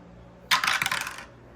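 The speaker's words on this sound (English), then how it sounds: "So we are going to roll our D6 dice and we're going to work our way down the board." A pair of D6 dice is rolled across a game board, giving one brief, close clattering rattle of bouncing dice that fades within a second, heard alone.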